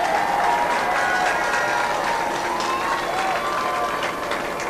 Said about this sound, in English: Cheer going out from the crowd.